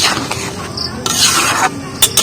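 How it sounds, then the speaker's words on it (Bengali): A spoon stirs pumpkin and red lentil curry in a pan, giving loud, close scraping strokes over a soft sizzle, with a few quick bursts of stirring and no talking. "ডাল আর পুরো তরকারির মধ্যে একটু ভালো করে মিশিয়ে নিচ্ছি"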